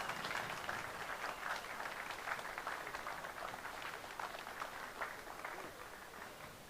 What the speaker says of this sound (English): Give a warm round of applause to Claude Schwartz and Michael Schulz